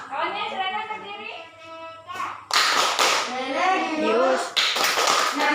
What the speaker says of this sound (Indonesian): Silakan memimpin temannya untuk tepuk PPK.